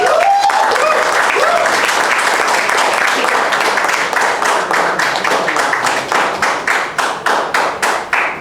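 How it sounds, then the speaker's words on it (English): Audience at a Karnival Kebaya Malaysia 2022 press conference bursts into sustained applause that thins into a few distinct claps near the end. A voice speaks over the opening moments. "So a round of applause for Jason"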